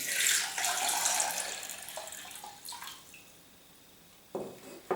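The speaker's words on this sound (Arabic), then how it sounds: "نصب الماء" Water is poured into a cooking pot for boiling bones in a Tunisian cuttlefish tajine preparation, a close rushing splash that tapers off over a few seconds, then a couple of short splashes and clinks.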